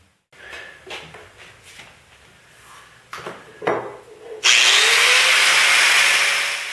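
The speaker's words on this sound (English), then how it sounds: "I drilled a 1-inch hole through a piece of wood to mark an accurate line around the pipe." A power drill bores a 1-inch hole through a piece of wood, starting with a few short bursts and knocks, then settling into a loud, steady high-pitched whine for the last two seconds.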